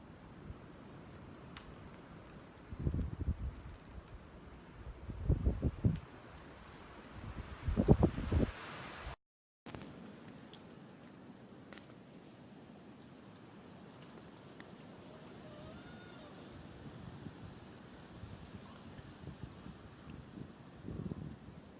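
Gusty wind rumbles against the microphone in a few strong bursts from a deer stand in a Price County, Wisconsin forest, then settles into a steady low whoosh of outdoor air.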